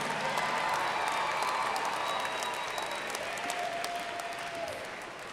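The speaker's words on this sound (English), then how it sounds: "please give a warm round of applause and congratulations to our 2017 Master of Public Policy graduates" A large audience at a 2017 university graduation commencement ceremony applauds, a dense, sustained wash of clapping that fills the hall and slowly tapers toward the end.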